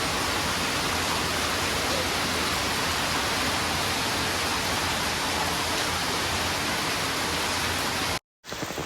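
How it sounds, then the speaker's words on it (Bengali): Heavy rain pours down in Sylhet, a dense, steady roar of falling water that stays loud and unbroken before cutting off abruptly near the end. "খাওয়ার মাঝখানে দেখলাম এত ঝুমঝুমিয়ে বৃষ্টি শুরু হয়ে গেছে।"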